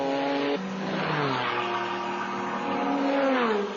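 GT race cars at Watkins Glen during a 1999 FIA GT round, engines screaming loudly as they climb a hill, with overlapping pitch sweeps from several cars accelerating and shifting, dense and continuous throughout.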